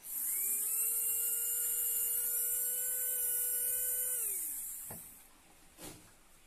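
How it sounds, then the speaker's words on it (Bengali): A small DC motor on a 3.7 V battery spins at high speed with a loud, steady whine that holds for several seconds, then winds down, followed by a couple of faint clicks. "এবার দেখো কতটা স্পিডে ঘুরছে, ব্ল্যাক টিউবটাও খুলে গেল, এতটা স্পিডে ঘুরছে।"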